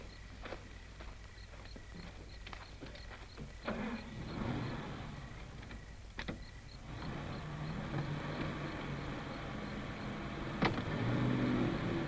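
A car from a 1949 film scene is driven, its engine a low, steady hum that rises gradually, with occasional light knocks and a brief whine partway through.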